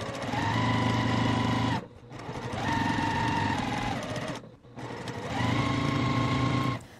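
A sewing machine stitches quilt block pieces in three close bursts of fast whirring, each a couple of seconds long, separated by brief pauses.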